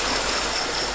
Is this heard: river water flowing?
yes